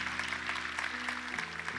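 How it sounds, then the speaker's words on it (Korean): A church congregation applauds to thank the helpers at a Christmas Eve service, with a steady wash of clapping from many hands across the room over a low sustained hum. "한번 박수로 감사해 주시면"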